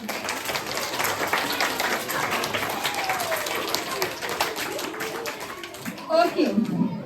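A school audience at an Environment Day quiz competition claps for the winning houses, a steady spatter of many hands with a voice rising near the end.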